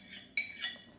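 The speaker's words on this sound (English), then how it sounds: "I'm going to get a bigger bowl so I'll have more room." A bowl is handled in a home kitchen while an apple salad is prepared, giving two bright ceramic clinks in quick succession, close and clear.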